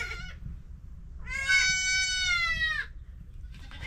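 A goat bleats close by, one short cry followed by a longer, strained wavering call, then the start of another, over a low background hum.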